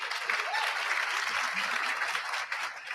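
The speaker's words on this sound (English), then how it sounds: "round of applause for Carson Carr" Audience at a college preparation program's 25th anniversary celebration gives a steady, full round of applause, dense continuous clapping filling the whole moment with a faint voice briefly audible.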